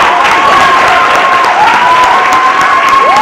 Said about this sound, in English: Let's give ourselves, the participants and also the presenters, a round of applause